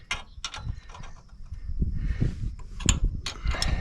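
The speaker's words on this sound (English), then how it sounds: "now we're going to go ahead and tighten up our idler so it holds that tension properly" Metallic clicks and ratcheting clanks come from tightening a chain idler on a John Deere 7000 planter with a wrench, a series of close, fairly quiet mechanical ticks and rattles with no talk.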